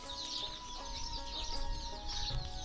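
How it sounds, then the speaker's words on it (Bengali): A hen and her many small chicks in a village home on a river char in Bangladesh, with faint, rapid chick peeping and soft clucks drifting from a distance, quiet and without talk. "দূর থেকে ভেসে আসছে মুরগির বাচ্চার শব্দ"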